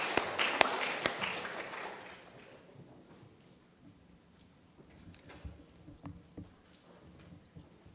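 A church congregation at a Sunday service in Gyeongju applauds in a dense burst that quickly fades, leaving a few scattered, quieter claps and room noise.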